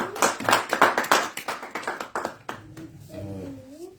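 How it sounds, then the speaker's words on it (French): Audience at a political talk applauds, a dense run of claps that fades out after a few seconds, followed by low murmuring and background voices. "On applaudit."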